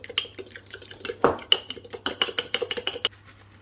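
Liquid cream and a whole egg whisked in a bowl, heard as rapid, close clinks and scrapes of a whisk against the bowl, building into a fast rhythmic run before stopping.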